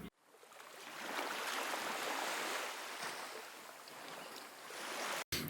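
A steady, hissing roar of a Graff diamond cut-off wheel grinding through metal continues for several seconds, loud and unbroken, with a brief drop near the end.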